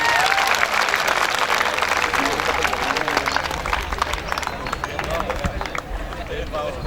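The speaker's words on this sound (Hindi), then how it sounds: "जोर से ताली बजाइए।" A crowd at a National Voters' Day ceremony claps loudly for certificate recipients, a dense, continuous roar of applause lasting several seconds with some background murmur and a faint voice underneath.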